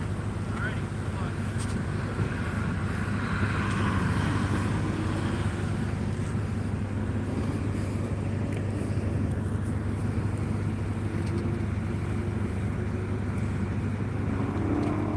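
Race cars on the Nashville Super Speedway track during a One Lap of America session, a continuous engine drone with wind rumble throughout and a commentator talking over it.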